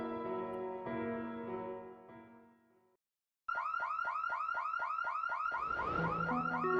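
A car alarm blares nearby, first a steady tonal wail, then after a brief silence a rapid repeating whooping chirp pattern cycling loudly.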